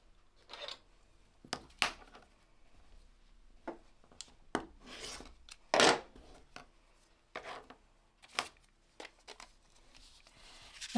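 Quilt fabric pieces are trimmed with a cutter on a cutting mat, giving soft, irregular scraping and slicing sounds, one louder cut in the middle, spaced by quiet pauses.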